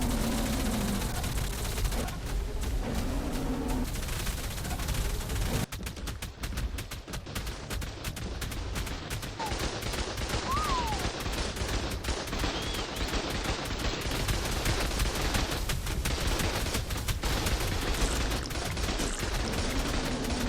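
NPC turret towers firing guns in the game ARK: The Island, a dense and continuous barrage of rapid gunfire that rattles on without a break for the whole stretch.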